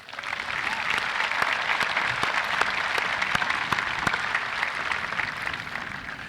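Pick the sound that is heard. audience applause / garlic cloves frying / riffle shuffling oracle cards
audience applause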